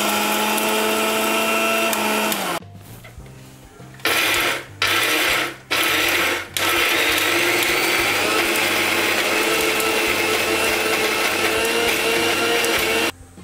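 A mixer grinder blends coconut chutney with added water in a loud, steady whir. The motor cuts out several times in quick stop-start bursts, then runs continuously again.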